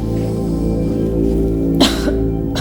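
During a doctor's examination, a single short cough rises briefly over a steady low background hum, close and fairly loud.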